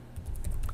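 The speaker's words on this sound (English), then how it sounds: "we're going to go ahead and type the email address over here" Fingers tap out an email address on a computer keyboard in a quick run of close, crisp key clicks with a soft rhythmic patter.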